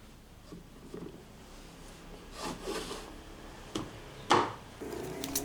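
A homemade wooden knob for the locking mechanism of a DIY 2x72 belt sander grinder is shaped by hand. Quiet, intermittent rubbing and scraping strokes come and go, with one sharper scrape near the end.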